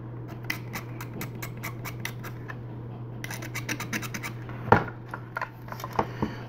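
Small scissors snip wiring on a 1/24 scale G-System Ex-S model kit bust, up close, giving a quick series of crisp clicks over a steady low hum, with one sharper snap near the end.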